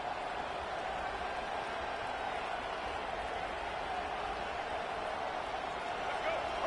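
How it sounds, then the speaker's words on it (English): A steady, roaring College Football 25 stadium crowd fills the space as a constant wash of noise, with a commentator talking over it. "Now the crowd responding in the red zone, trying to help this defense."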